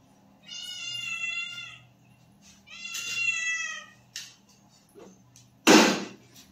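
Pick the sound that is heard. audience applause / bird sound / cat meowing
cat meowing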